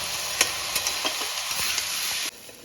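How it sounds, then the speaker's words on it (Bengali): Schezwan rice with soy sauce fries on a high flame, giving a steady loud sizzle with several brief stirring scrapes. The sizzle drops away near the end. "এবার এটা হাই ফ্লেমে একটু ফ্রাই করতে হবে।"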